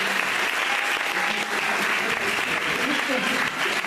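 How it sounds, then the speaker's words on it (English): A Houston sales-meeting crowd applauds a new regional sales manager, loud, dense clapping that continues throughout with a few voices and cheers mixed in. "Please give a round of applause, a Houston round of applause to our new regional sales manager"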